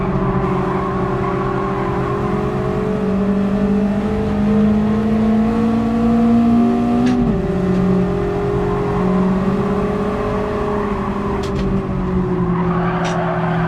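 Engine of an NA Miata racing in Gran Turismo 7, a steady loud drone that climbs in pitch, drops sharply at a gear change and climbs again, with faint tyre and track noise throughout.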